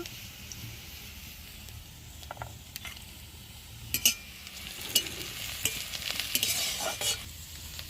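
Browned onion and chilli powder fry in oil in a pan with a low sizzle. A utensil scrapes and clatters as it stirs, with the knocks growing busier and louder toward the end.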